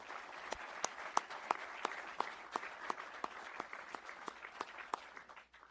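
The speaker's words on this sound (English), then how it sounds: "Can I get a small round of applause for our families?" An audience at a ceremony honouring a Marine gives a steady round of applause for the families, with many hands clapping at moderate distance and one sharper, regular clap standing out before the applause tapers off.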